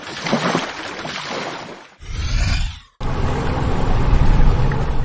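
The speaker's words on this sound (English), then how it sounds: "Boat." A boat moves on open water with a broad rushing wash of water and wind, interrupted by a sweeping whoosh and a brief cut, then the steady loud roar returns.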